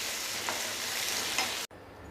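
Steady, close sizzling of chopped coriander sautéing in a pan, with a couple of faint stirring scrapes before it drops off abruptly.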